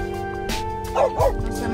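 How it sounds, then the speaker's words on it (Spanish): A dog gives a couple of short, close yipping barks at a man on a motorbike, heard through a car's open window over a steady engine hum. "le está ladrando al señor de la moto"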